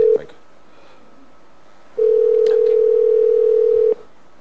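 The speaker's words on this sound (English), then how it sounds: "Do I have a dial tone? I do." A telephone dial tone sounds in two steady, loud beeps, a short one at the start and a longer one lasting about two seconds, with quiet between them.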